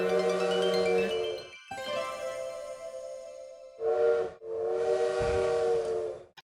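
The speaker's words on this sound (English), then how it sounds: "it really is the sound of the train whistle" A steam train whistle sounds in the Little Witch in the Woods video game: several long, bright, harmonic blasts with brief gaps, clear and fairly loud with no talk over it.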